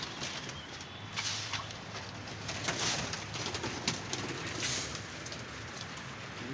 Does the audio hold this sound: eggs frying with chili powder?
no